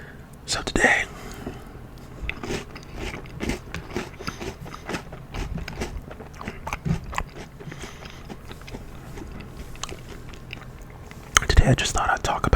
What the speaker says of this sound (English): Today I'll just be eating some cereal. Today I have Captain Crunch cereal